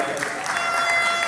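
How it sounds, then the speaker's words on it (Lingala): A church congregation applauds and cheers in celebration of Jesus, with dense, steady clapping and shouts that fill the whole moment at close range. "Pouvons-nous célébrer Jésus avec des acclamations,"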